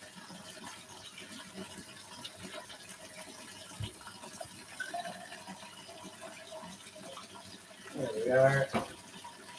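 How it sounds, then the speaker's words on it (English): Water runs into the detergent dispenser of a Maytag washer with the cabinet off, a soft continuous gush that swells near the end as a voice speaks briefly. "get some water in that dispenser."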